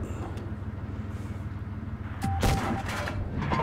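A tank cannon fires in World of Tanks Blitz with a single loud boom and crackling blast midway, over steady engine rumble and battle ambience.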